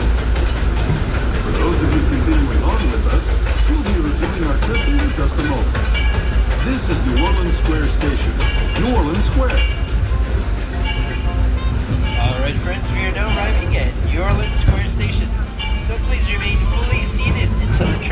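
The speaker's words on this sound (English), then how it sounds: "please remain safe until the train comes to a complete stop" Disneyland Railroad steam train at a station on a rainy day gives off a continuous loud hiss and rumble with clanking and squealing, while a voice speaks faintly underneath.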